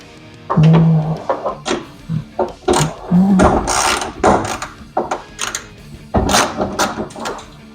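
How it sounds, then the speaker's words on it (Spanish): A ratchet loosening a nut on a Chevy OBS truck: loud, close bursts of clicking pawl action in short irregular runs, with metallic knocks and pauses between strokes. "Entonces ahora pude aflojar esa tuerca de arriba"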